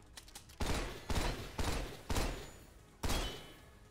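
Gunfire in the video game Synthetik 2: five loud, sharp blasts spaced roughly half a second apart, each with a booming tail, standing alone without talk.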